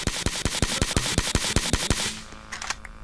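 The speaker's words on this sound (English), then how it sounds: "They shooting!" Automatic gunfire in a roleplay video game, a rapid even burst of about a dozen loud sharp shots lasting two seconds, followed by quieter scattered clicks and faint sounds.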